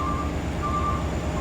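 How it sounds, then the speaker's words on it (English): A big dump truck in Farming Simulator 19 sounds a steady, repeating warning beep while unloading, the tones pulsing evenly over a constant low engine rumble. "when you do unload, you do have kind of a beeping sound here, which I think is pretty realistic"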